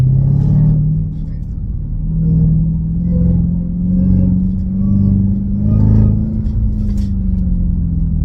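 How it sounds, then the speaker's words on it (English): Dodge Hellcat with an aftermarket intake held in third gear, a sustained low engine drone and supercharger whine that rises and falls gently with throttle, loud and close, with exhaust rumble underneath. "try third gear and just keep it right there. Keep it whining."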